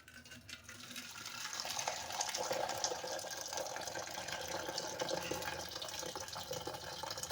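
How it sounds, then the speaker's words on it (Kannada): A steady stream of water pours and splashes continuously as cooking water is drained from a pot of boiled horse gram into a sink, close and fairly loud. "ನೀರು ಬಗ್ಗಿಸ್ಕೋಬೇಕು."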